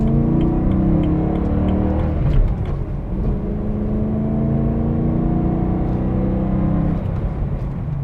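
A BMW E92 M3 with its V8 in M mode accelerates, a steady loud engine drone with rising harmonics that build and hold throughout, heard from inside the car.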